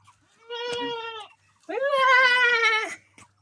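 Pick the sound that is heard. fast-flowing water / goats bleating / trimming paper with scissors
goats bleating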